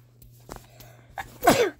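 A single sharp human sneeze bursts out near the end after a few soft breaths and small noises, close to the microphone and loud.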